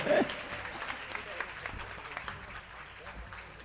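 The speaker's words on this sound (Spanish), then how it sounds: "Fuerte el aplauso." An audience at a church concert breaks into applause, starting loud and then settling into a steady patter of clapping while a voice talks over it.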